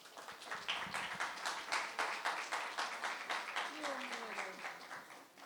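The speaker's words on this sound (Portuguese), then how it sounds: "uma salva de palmas para a Daniela" Sustained applause from an audience, steady and fairly loud for several seconds, welcoming author and publisher Daniela Rosário onto a talk show, with a faint voice briefly heard underneath near the end.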